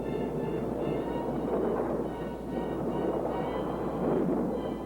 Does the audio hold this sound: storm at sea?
yes